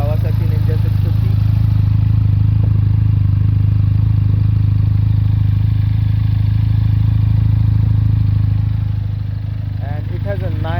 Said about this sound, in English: this is how it idles, and it's the stock exhaust, underbelly exhaust